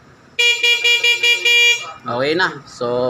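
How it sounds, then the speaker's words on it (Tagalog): Horn of a Honda XRM 125 FI motorcycle, a Pia horn, gives several loud, sharp, evenly spaced honks in a row, followed by brief talk nearby and another tone. "Pia horn."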